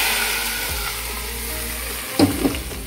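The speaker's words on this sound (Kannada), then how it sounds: "ಬಿಸಿ ಮಾಡಲಿಕ್ಕಿಟ್ಟ ಸಾರಿಗೆ ಈಗ ಒಗ್ಗರಣೆ ಚೆನ್ನಾಗಿ ಆಗಿದೆ" Hot tempering is poured into a pot of sambar and sizzles sharply, a steady frying hiss followed by a brief louder crackle and bubbling burst near the end, close and without talk.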